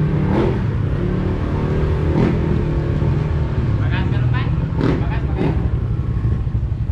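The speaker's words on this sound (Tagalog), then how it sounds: "Mga ingay, open pipe nga yung mga motor." Loud, steady rumble of motorcycles with open exhaust pipes fills the scene, with engines revving and passing close by while people talk over the noise.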